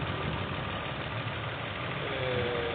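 Nissan car engine idling normally, a steady low rumble with an even, unchanging hum, close and moderately loud, alone without voices.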